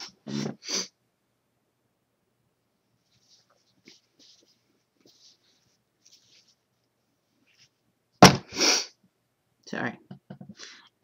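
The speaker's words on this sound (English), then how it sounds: "I gotta sneeze" A person sneezes sharply and loudly near the microphone, with a quick snort-like burst, after long near-silence broken by faint small clicks and short breathy sounds.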